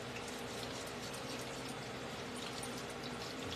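Water poured into a bowl of flour, a steady continuous pouring and trickling wash close by with no voices.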